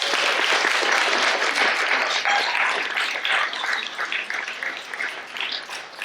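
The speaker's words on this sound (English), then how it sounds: "Yes, another round of applause." Sustained audience applause at a lecture by Dr. Paul Sutton, loud, dense and steady for several seconds, easing slightly toward the end with no talking over it.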